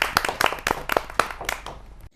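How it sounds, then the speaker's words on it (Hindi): Applause welcoming poet Dr. Priya Sufi of Hoshiarpur, Punjab, before she presents her compositions: scattered, close hand claps in an uneven burst lasting about two seconds, then stopping abruptly. "जोरदार तालियों से स्वागत है डॉक्टर प्रिया सूफी जी"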